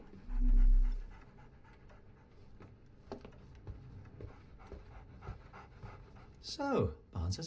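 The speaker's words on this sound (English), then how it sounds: "So, Barnes has a dog now." A dog pants in quick rhythmic breaths in the Sherlock Holmes video game, close and soft, with someone talking over it and a louder clatter near the end.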